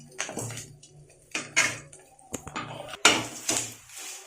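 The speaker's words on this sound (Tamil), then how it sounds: "நல்லா சட்டியில் சரசரன்னு சத்தம் கேட்குற அளவுக்கு வறுக்கணும்." Curry leaves dry-roasting in a pan for karuveppilai podi, heard as scattered light rattling and scraping bursts, a handful of short clattery stirs separated by brief quiet gaps, close and moderately loud with no talk.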